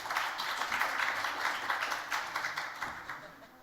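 Conference audience at an IGF 2016 workshop applauding, a continuous crackle of many hands that holds steady for several seconds, then thins into looser individual claps toward the end.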